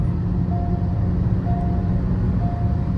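A Mahindra XUV700 petrol and a Hyundai Creta turbo petrol run flat out side by side in a drag race, giving a steady loud engine drone with a faint whine.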